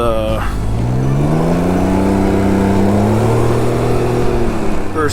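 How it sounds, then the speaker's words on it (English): A loud Can-Am Ryker three-wheeled motorcycle engine running steadily with clutch noise, its pitch rising then holding as it revs, with no pauses. "there's a lot of engine noise, clutch noise"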